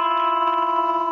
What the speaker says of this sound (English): If you bend too high, it's going to sound like this.